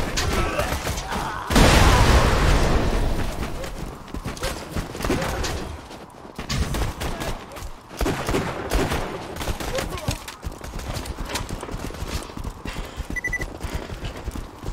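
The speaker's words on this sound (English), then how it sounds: "That was pretty good cover fire" Dense, loud video-game gunfire from Borderlands 2, with rapid overlapping shots and bursts laying down cover fire continuously, and people talking under it.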